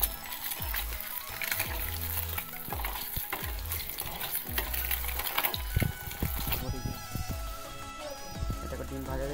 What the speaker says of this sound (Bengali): এটাকে ডিম ভাজাতে ডিম ফুটে নিচ্ছি।